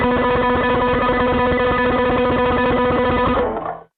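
Fast bass guitar picked with a flailing motion, the index fingernail striking the strings on each upstroke, through an effects unit with distortion; a dense, continuous rapid run that stops abruptly near the end.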